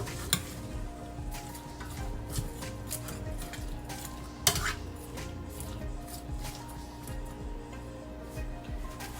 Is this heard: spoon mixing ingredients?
yes